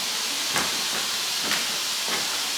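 Combination levers on a restored 1865 Forster & Andrews pipe organ are worked, giving three soft, spaced mechanical clunks over a constant loud rush of wind hiss.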